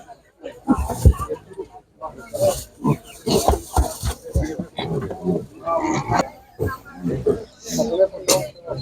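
Landrace piglets squeal in repeated shrill bursts at an animal market, loud and close, mixed with people talking nearby.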